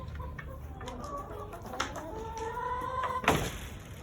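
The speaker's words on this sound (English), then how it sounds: "I'm going to feed the chickens" Chickens waiting to be fed cluck softly and repeatedly at close range, with a slightly louder burst near the end and a faint knock in the background.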